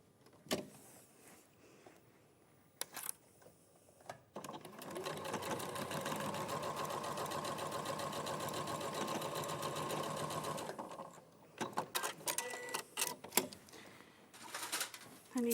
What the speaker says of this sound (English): you're going to sew 1/4 inch down there. And you're going to reverse your stitch and do it on a standard stitch length.